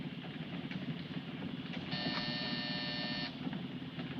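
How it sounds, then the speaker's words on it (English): A buzzer sounds once for about a second and a half, a steady harsh electric tone over a low engine rumble, fairly close and without talk. "Hit that buzzer."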